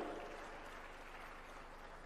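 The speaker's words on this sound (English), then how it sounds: "Mr. Sam Nganga, a bigger round of applause." An audience at a live African heads-of-state summit applauds as a speaker comes to the stage, a continuous wash of clapping heard faintly and at a distance, steady throughout the short stretch.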